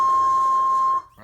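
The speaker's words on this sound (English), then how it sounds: "What you have on here is a timecode signal" A DJ control vinyl record plays a timecode signal. A single steady high-pitched tone holds for about a second, then cuts off abruptly.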